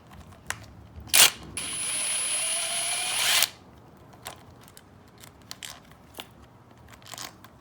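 Tool work on a Yamaha YFZ450 engine during a tear-down: a sharp click, then a sustained high whirring buzz for about two seconds, followed by scattered faint clicks and taps.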